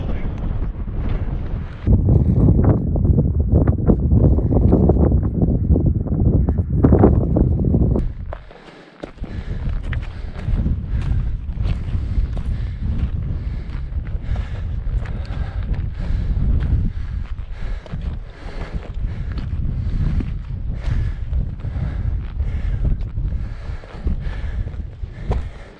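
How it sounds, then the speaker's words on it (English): Strong wind roars and buffets the microphone continuously on Grasmoor mountain, loud and gusty, with a brief lull partway through. "that wind's really picked up as well"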